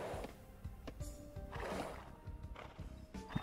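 A scout cavalry horse in the strategy game Age of Empires 2 whinnies amid clip-clop hoofbeats, with brief bursts of neighing over continuous game ambience and no talk.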